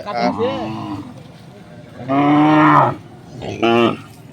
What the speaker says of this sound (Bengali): এই যে গরুগুলো যাচ্ছে